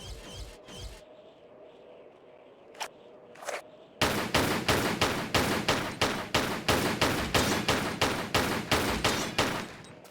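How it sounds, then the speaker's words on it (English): Pistol shots crack in rapid, fairly regular succession in Tomb Raider: The Last Revelation, preceded by a few scattered game sounds and then a sustained string of loud shots lasting several seconds, without talking. "Okay, gotta shoot them a long time. It's pistols."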